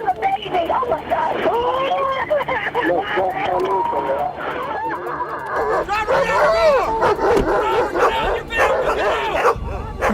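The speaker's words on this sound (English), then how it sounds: "I heard the K9 dog barking" A police K9 dog barks, yips and whimpers excitedly in a steady, close flurry of sounds that runs through the whole stretch, mixed in with other noise.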